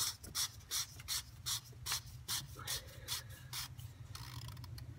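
An oil filter is pushed and twisted onto a Ford Super Duty engine, giving about a dozen rhythmic rasping rubs at close range that fade into lighter scraping, with no speech.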